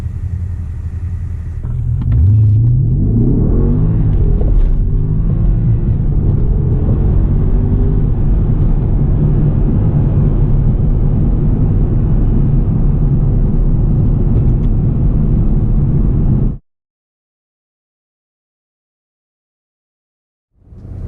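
A Porsche Panamera Turbo S engine roars steadily under hard 0-60 acceleration in Sport Plus with automatic transmission for about sixteen seconds, deep and loud with rising gear pulls, then cuts to silence.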